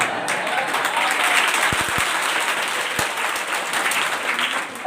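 Students clapping in a classroom, a loose burst of applause that swells and then continues steadily, with a few sharp knocks partway through.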